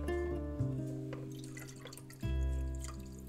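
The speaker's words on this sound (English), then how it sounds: "Now we need to top off the water." Water runs from a tap to top off a bucket, a steady close gush with a resonant, humming tone that shifts as the level rises, and no talking.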